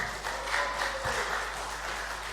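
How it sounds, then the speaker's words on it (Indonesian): Audience applause at an inauguration ceremony for a provincial association board in Central Java, 2020: a short, even stretch of crowd clapping in a hall, moderately loud and without pause. "Tepuk tangan."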